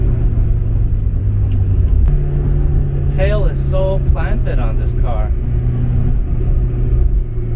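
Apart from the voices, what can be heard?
1982 Porsche 944 engine accelerating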